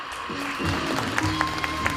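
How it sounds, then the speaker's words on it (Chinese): An audience claps in welcome for a guest official at a Hakka Affairs Council event, a steady wash of applause from a crowd heard for about two seconds, with a voice faintly underneath. "我们掌声鼓励。"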